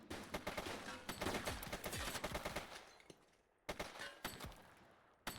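Rapid bursts of gunfire in a police precinct video game, dense automatic shots crackling in quick succession, a brief pause, then more scattered shots, with no talking.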